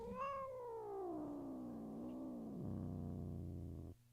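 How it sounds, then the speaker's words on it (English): A domestic cat lets out one long, drawn-out meow that rises then slowly falls into a low, moaning yowl lasting nearly four seconds, close and clear in a quiet room before stopping abruptly. "So this is Boomer, the noisiest of all of our cats"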